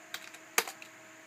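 A computer keyboard on a workbench test rig for a repaired Asus P5GZ-MX motherboard gives a few quiet scattered keystrokes, then one sharper cluster of taps, faint and close, with no talking.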